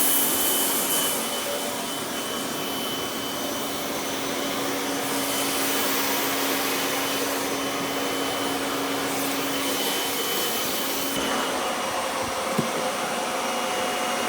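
A vacuum cleaner fitted with a crevice tool runs steadily and loudly throughout, a continuous whining motor drone with a sustained hum and shifting airflow hiss as the nozzle moves.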